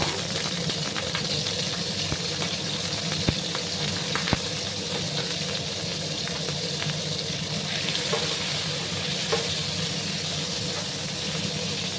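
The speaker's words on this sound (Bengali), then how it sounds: "পনিরগুলোকে একটু হালকা করে আমি ভেজে নেব।" Paneer pieces fry in hot oil with a steady, dense hiss that runs the whole time, with only a few faint clicks breaking through.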